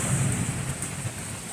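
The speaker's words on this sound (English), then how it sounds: "listen to how that thing's just echoing out there. Imagine the energy that it takes for the lightning and the thunder." Distant thunder from a storm rumbles low and drawn out beneath the steady hiss of rain, with a faint high whine running throughout and no voices.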